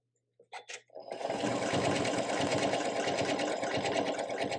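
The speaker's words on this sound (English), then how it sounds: "I've chosen a stitch that's like a blanket stitch on my machine, and I'm going to go all the way around the cross doing this blanket stitch" Sewing machine running a blanket stitch around an appliqué cross, starting after a few brief clicks and then whirring steadily and loudly at close range with a fast mechanical rhythm.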